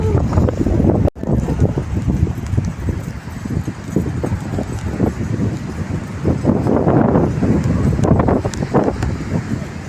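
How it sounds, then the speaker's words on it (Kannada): Wind gusts steadily at Thannirbhavi beach as rain starts, making a dense, rumbling roar that buffets the microphone for the full stretch, loud and continuous with brief dips. "ಗಾಳಿ ಸಹ ಬರ್ತಾ ಉಂಟು"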